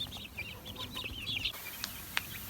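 Chickens cluck softly at feeding time, a few quiet, close bird calls and chirps over faint background noise, with no talk.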